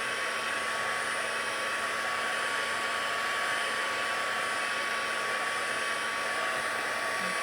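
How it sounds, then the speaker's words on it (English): A heat tool on its low setting drying stamped cardstock, blowing as a loud, continuous, even whoosh with a faint steady whine throughout and nothing else heard. "I'm just using the low setting on my heat tool here to give this a good drying"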